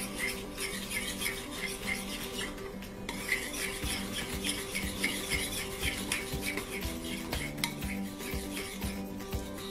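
Glue being stirred together with a few drops of food coloring for homemade window clings, a steady scraping and clinking of a utensil against a dish that continues for nearly ten seconds.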